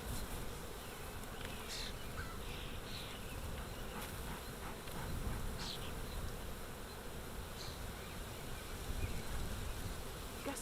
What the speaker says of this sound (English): Holy cow, this is a lot of bees.